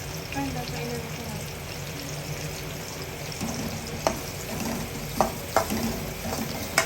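Onion-based mix with turmeric and salt is sautéed in a pan: a soft, steady sizzle with a few spoon scrapes and clinks toward the end, fairly quiet, and no one speaks.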